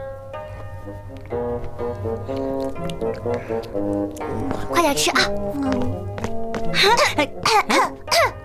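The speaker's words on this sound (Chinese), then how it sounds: "娘要回来了，我就咳嗽一声啊" A child gives a few short, sharp coughs as a warning signal in a classic romance drama. The coughs break in among spoken lines over soft background music.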